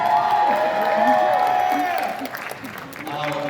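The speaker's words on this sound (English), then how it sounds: "Hey, you got a cheering crowd as well." A crowd at a Send Relief service tour stop in Chicago cheers and claps, a loud mix of applause and whoops that tapers slightly, with voices talking over it.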